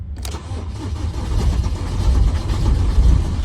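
A struggling van engine cranks with a sharp catch, then churns and grinds in a steady, rough, low rumble that builds slightly as the cranking keeps going.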